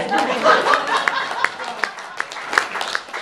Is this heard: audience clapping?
yes